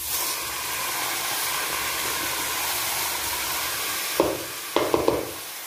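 Peppers sizzle steadily in a hot pan, a loud continuous hiss close up, then tomatoes drop in near the end with a few sharp clattering knocks and scrapes.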